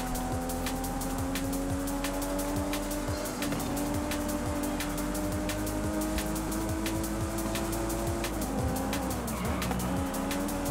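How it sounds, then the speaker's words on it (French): Car drifting in the Forza Horizon 5 racing game: a steady, loud engine drone runs throughout, with long tire squeals and skidding, a few shifts in engine pitch, and no talk. "On voit un drift, c'est bon."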